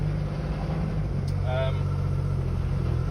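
A Metro 6R4 rally car driving on the road, its engine a constant low droning hum heard from inside, with a brief voice partway through.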